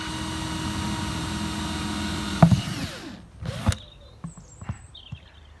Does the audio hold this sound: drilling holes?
yes